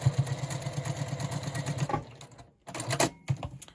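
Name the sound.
sewing machine stitching a quilt block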